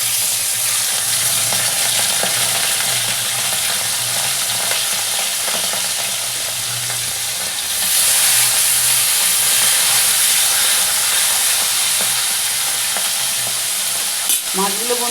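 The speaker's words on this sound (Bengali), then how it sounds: "এবার মাছগুলো এতে আস্তে আস্তে আমি দিয়ে দেবো।" Pomfret fish being fried in hot oil in a home kitchen give off a steady, close hiss and sizzle that swells louder about halfway through and carries on unbroken, with no talking.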